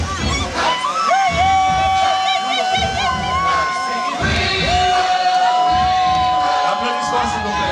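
Guests at a wedding celebration in Douala cheer loudly, with shouts, whoops and crowd babble forming a continuous roar, while a voice talks over the noise.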